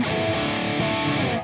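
Electric guitar chords with the distortion effect engaged, played during a lesson on a song: a thick, saturated and sustained wall of overdriven tone rings out loud and steady, then cuts off at the end.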